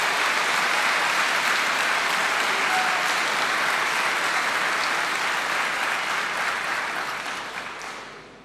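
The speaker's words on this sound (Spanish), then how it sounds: "Por si no se escuchó por los aplausos" An audience at a political speech applauds loudly and continuously, a dense sustained clapping that fades out over the final seconds.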